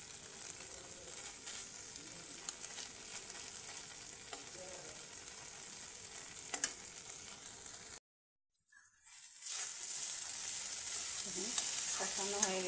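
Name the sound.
frying and stirring fried pieces in spices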